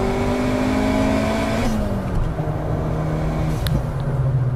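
Fiat Grande Punto Abarth tuned to 420 hp and revving to 8200 rpm, its engine holding a loud, steady tone that climbs and then drops back toward a deep idle drone, with a brief sharp click near the end.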